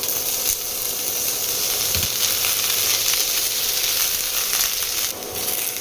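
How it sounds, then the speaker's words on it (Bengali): Potatoes fry in a pan with a loud, continuous sizzle that stays dense and even throughout, with a soft clatter now and then. "ফার্স্টে না আলুটা ভেজে নেব।"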